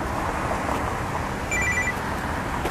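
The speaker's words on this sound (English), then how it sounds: "my phone's ringing" A mobile phone rings in short electronic bursts about halfway through, fairly faint above a steady hum of background noise.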